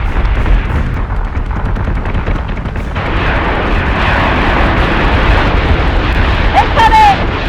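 Flak cannons in the space battle game Battlestar Galactica Deadlock pound in a dense, rumbling barrage, continuous and loud, with a faint whistling sweep near the end.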